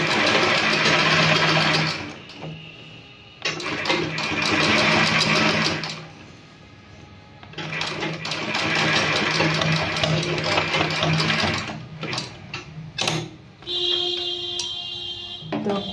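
A sewing machine runs a straight topstitch along a fabric neckband, whirring in long bursts of rapid mechanical ticking separated by short pauses and a few quick clicks.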